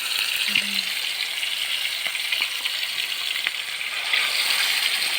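Steady sizzling of marinated chicken frying in a pan made from a harrow disc, with a few light clinks and taps of a utensil over the constant crackle.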